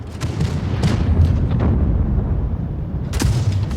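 Tank cannon fire in an online tank battle game, with repeated booming shots and explosions heavy in the low end under continuous battle rumble and engine noise. Sharp blasts land near the start, midway and again toward the end.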